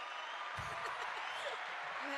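A crowd applauds and cheers for a guest being welcomed onto an interview show, with a dense, steady wash of clapping that swells after a brief pause and continues under a speaking voice.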